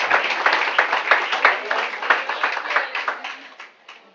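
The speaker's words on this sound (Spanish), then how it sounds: "Dele un fuerte aplauso a Dios por eso." A church congregation claps for God during a sermon, a loud run of hand claps with clear individual slaps, fading out toward the end.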